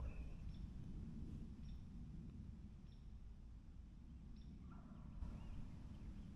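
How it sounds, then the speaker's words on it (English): Faint gobbles from a wild turkey carry across a field, several short calls spaced out over steady low background rumble, distant and quiet. "he just gobbled"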